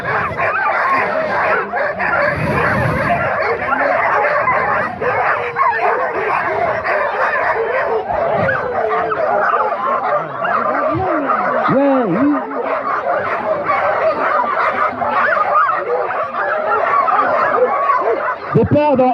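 Dogs bark and yip excitedly at the start line of a canicross race in a park, a crowd of owners and runners gathered; steady overlapping barking close by, with people chattering throughout.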